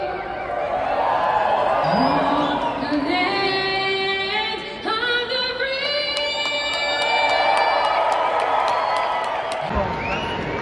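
An arena crowd at a Florida Panthers hockey game in Sunrise, Florida cheers and whoops under loud rising organ and synth tones, then the roar swells again before cutting off sharply near the end.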